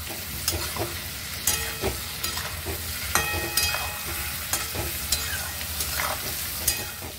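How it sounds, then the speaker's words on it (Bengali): Cumin, chili powder and turmeric sizzle in hot oil for a Bengali hilsa curry, a steady frying hiss punctuated by regular scraping strokes of a spatula stirring the pan, close and without speech. "এটা আমি কষিয়ে নেব।"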